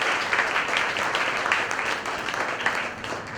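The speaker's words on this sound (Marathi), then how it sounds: "दोघांसाठी एकदा जोरदार टाळ्यांचा गजर करूया" Dense applause from an audience at a Marathi-language pride event, steady clapping filling the whole stretch at moderate loudness.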